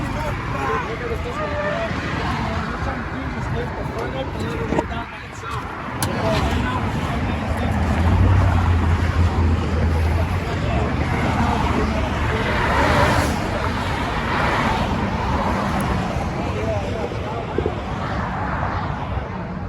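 Steady road rumble inside a moving car, continuous and fairly loud, with people talking over it throughout.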